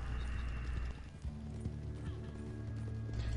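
Hoofbeats of a horse galloping in a video game, a steady clip-clop rhythm with a brief whinny, close and fairly loud, running under light talk from players.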